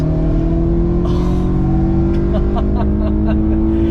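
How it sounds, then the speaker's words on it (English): A BMW E92 M3's 4-liter naturally aspirated S65 V8 holds a loud steady drone with a deep exhaust note and short bursts of revving on top, close by and without speech. "that beautiful exhaust note is made from a 4-liter naturally aspirated V8 engine"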